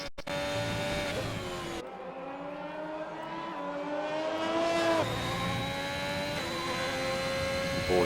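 Formula-style racing car engines, including a Ferrari, scream at high revs around Suzuka toward the 130R corner in a racing video game, with steady rising and falling engine tones and a gear shift near the start, loud and continuous.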